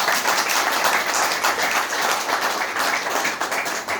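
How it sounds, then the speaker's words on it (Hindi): A large crowd claps continuously, forming a dense, steady wash of applause that holds loud throughout. "बड़ा जोरदार तालियां हो जाए।"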